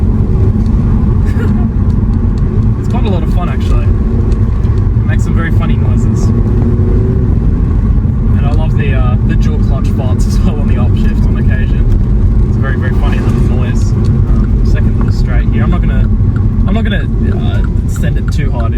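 A 2016 Mini Cooper S with the JCW package and turbo engine drones loudly and continuously from inside the car, its engine noise running under steady talking throughout.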